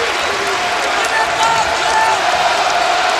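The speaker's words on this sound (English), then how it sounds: "Here comes the crowd" A basketball arena crowd roars and cheers in a steady, loud wash of noise, with an announcer talking over it.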